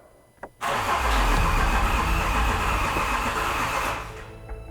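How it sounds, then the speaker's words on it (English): A rebuilt, previously damaged Range Rover engine cranks and catches on its first ignition, roaring loudly and steadily for a few seconds before easing off slightly, with a brief click just before it starts. "So now we're gonna go into the first ignition"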